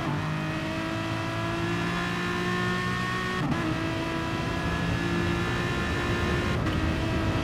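Race cars lapping Brands Hatch in a sim racing replay, a steady high engine whine with shifting tones as cars run close together, continuous and moderately loud with no voices.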